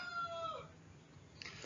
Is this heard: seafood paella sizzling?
no